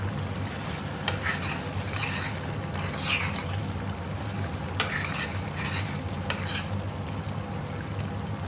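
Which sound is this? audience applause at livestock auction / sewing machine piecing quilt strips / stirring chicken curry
stirring chicken curry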